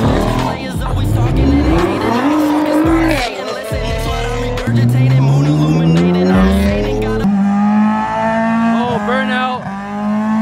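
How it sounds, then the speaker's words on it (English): A Mazda Miata doing a burnout at a street car event gives a loud, close engine roar with sweeping revs and shrill, sustained tire squeal, with crowd noise and voices around. "burnout."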